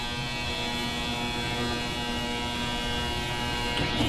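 An ultrasonic cleaner running with a Craftsman Troy-Bilt snow blower carburetor inside, giving a steady, loud electrical hum and buzz that holds unchanged throughout, close up and alone.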